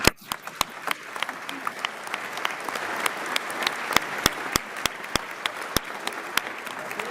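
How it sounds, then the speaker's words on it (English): Crowd in a hall at the Idaho 2023 State of the State address claps along, with scattered sharp individual claps standing out over a continuous wash of applause. "Clap twice if you agree."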